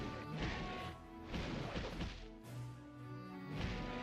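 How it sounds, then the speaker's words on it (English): Crunchy melee blows from the EverQuest Online Adventures video game, loud repeated smashing hits in an irregular rhythm with whooshing swings between them, dense and close. "Just the melee, crunchy melee, smashing repeatedly."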